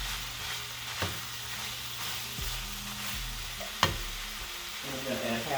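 Italian seasoning stirred into a sizzling stuffed bell pepper filling gives a steady frying hiss, with occasional sharp spoon scrapes and knocks against the pan and a low hum underneath.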